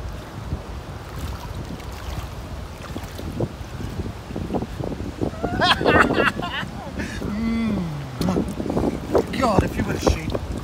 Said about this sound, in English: You'd think I'd be used to this wind, wouldn't you?